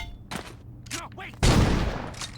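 Saints Row 2 gunfire: a loud, sudden burst of shots erupts partway through and keeps rattling to the end, after a short stretch of voice-like sounds.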